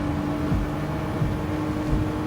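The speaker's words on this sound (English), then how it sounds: "I think that noise is the road below us as well." Road noise in the Gran Turismo 7 racing game, a steady low rumble and tire roar from a car at speed, with a faint engine whine and small periodic thumps.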